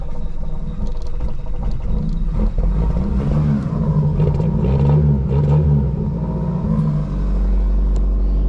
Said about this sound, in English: I'm letting the car warm up a little bit